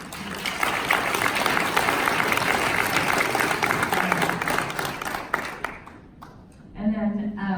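Loud audience applause at a UCLA Social Enterprise Academy awards event, thanking a foundation funder. It runs steady for about six seconds, then fades and a speaker resumes talking at the end.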